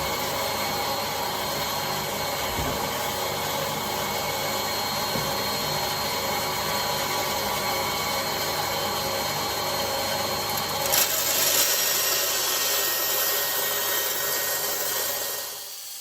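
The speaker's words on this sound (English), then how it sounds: "I need to reconfigure things now to get to my bandsaw, because I'm going to do quite a long cut on this" A bandsaw makes a long rip cut through guitar side wood, giving a steady, close whirring drone with a slight brighter shift near the end before it winds down, with no talk.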